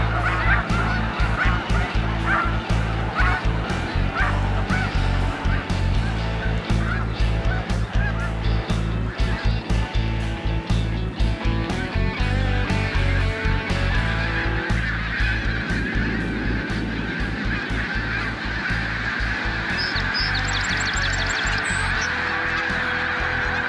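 Flock of geese honking in a field, a dense loud continuous chorus of overlapping calls lasting throughout, with no talk.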